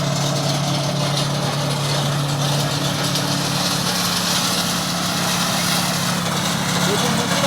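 On a dairy farm, the engine of a fodder-cutting machine runs with a loud, continuous drone and a low hum that stays steady for several seconds.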